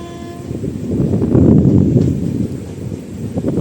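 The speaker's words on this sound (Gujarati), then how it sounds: "આપણી ટ્રેન હવે ઉપડી ગઈ" A train pulls out of Bhavnagar Terminus station, a close rumbling roll of wheels and carriages swelling briefly then easing, with faint horn-like tones at the start.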